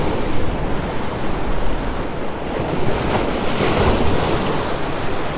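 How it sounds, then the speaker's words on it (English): Ocean waves slap against a pier in a steady, loud wash of surf, with heavy wind buffeting the microphone and no voices. "See where the waves are slapping right up onto the pier."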